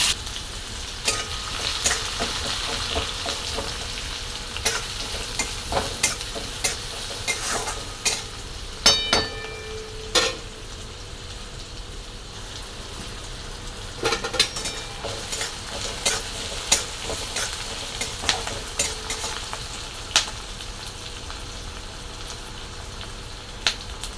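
Cumin seeds and a sliced onion fry in a pan for a home-cooked matki sabzi, a steady close sizzle broken by scattered spatula scrapes and clicks against the metal, with no voices.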